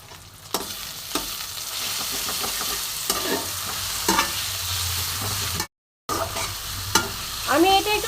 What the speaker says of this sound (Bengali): এই পেস্টটা আমি এবার কড়াইয়ের মধ্যে দেব।